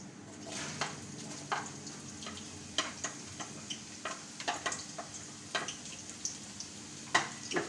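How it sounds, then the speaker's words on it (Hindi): Finely chopped onions hitting hot oil in a pan for dhaba-style mash daal, sizzling steadily up close while a spoon clicks and scrapes against the pan in irregular taps. "तो सबसे पहले तेल हमारा गर्म हो चुका है। सबसे पहले हम इसमें डालेंगे प्याज।"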